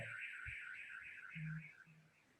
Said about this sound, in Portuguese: o alarme do vizinho